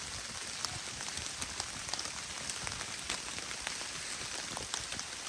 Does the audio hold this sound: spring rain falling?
yes